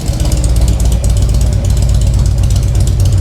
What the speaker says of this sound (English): I'll actually bring the throttle up so you can see it